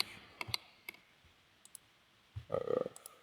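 A few light computer clicks from a keyboard and mouse during Blender work, scattered singles, then a quick cluster of taps near the end, close and quiet in an otherwise still room.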